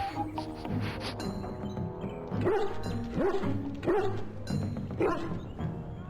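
A dog in the game Dragon Age: Origins gives about four sharp barks at uneven intervals, close and loud, over a sustained musical background.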